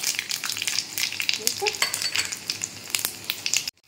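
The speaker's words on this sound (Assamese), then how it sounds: "সেয়া মিঠাতেল গৰম হৈ গ'ল ইয়াতে দিম তেজপাত তাৰপিছতে দি দিম সেয়া পাঁচফোৰণখিনি পাঁচফোৰণটো ফুটি লওক" Panch phoron spices and bay leaf spluttering in hot mustard oil in a pan, a steady close crackling sizzle with dense popping bursts throughout, ending abruptly.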